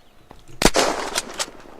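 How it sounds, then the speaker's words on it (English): A single sharp gunshot from a crafted weapon fired at a window in the video game Unturned, a loud close crack followed by brief rattling echoes and debris-like tails. "I just shot my window"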